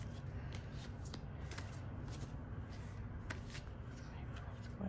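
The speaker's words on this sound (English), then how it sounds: "I'm going to pull some more cards real quick." Tarot cards are shuffled by hand in a steady run of soft riffling and slapping sounds, close and quiet, continuing without pause.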